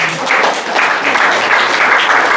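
Loud, steady applause from a church congregation during a Sunday worship service, a dense, continuous patter of many hands clapping throughout.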